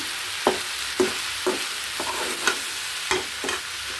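Vegetable and potato bhaji frying in a pan on a home stove, a steady sizzle punctuated by regular spatula knocks against the pan about every half second, close with no talk.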